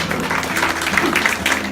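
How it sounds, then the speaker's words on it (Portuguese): A church congregation claps during a service, a brief burst of dense applause mixed with voices and cheering. "Dê uma salva de palmas ao Senhor aí."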